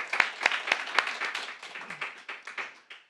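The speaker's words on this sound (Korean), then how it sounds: "박수 한번 할까요?" A church congregation claps during a Sunday Advent service, a few sharp, loud claps up front followed by a looser, quieter patter that fades out over about three seconds.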